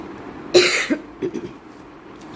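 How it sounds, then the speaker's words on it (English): A single sharp cough, close and loud, followed by a couple of smaller throat sounds, then quiet. "I'm coughing a little"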